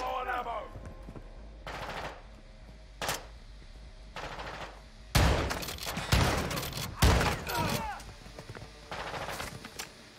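Bursts of automatic gunfire in Modern Warfare II come in several separate volleys, growing louder and denser toward the middle, with voices talking in between.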